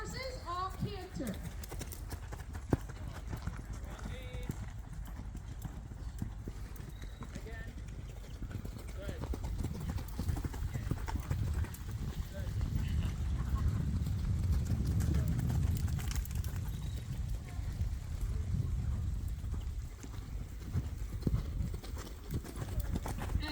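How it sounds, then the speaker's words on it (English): Several horses canter around an arena at a horse show, their hooves drumming in a steady, rolling rhythm that swells as they pass near, with people talking in the background. "And you all canter your horses, all canter."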